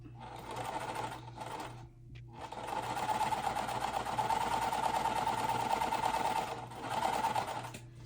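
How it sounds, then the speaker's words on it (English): A home sewing machine stitches cotton quilt block pieces in continuous runs, a steady mechanical whir with a short pause near the two-second mark, moderately close and without talk. "this way I can sew a bit quicker"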